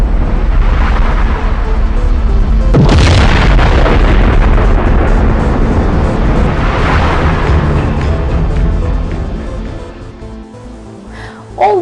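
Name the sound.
explosion of a star, sound effect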